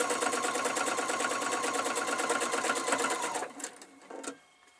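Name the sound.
sewing machine stitching quilt patchwork seams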